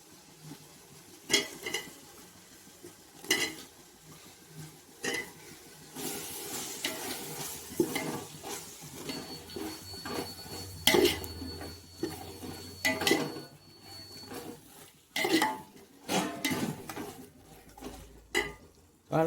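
Chopped mushrooms go into an oily masala for mushroom biryani and get stirred. A spoon or ladle scrapes and knocks against the pot at irregular intervals over a low sizzle, close and moderately loud.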